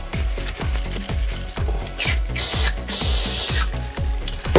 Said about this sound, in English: I'm just going to use some dedicated PCB cleaner.